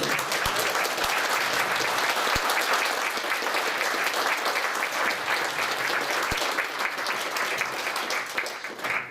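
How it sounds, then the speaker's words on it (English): An audience at a retro computing talk bursts into a round of applause, thick continuous clapping at full strength that holds for most of the stretch and thins out near the end. "let's give a round of applause to Dawn in the back"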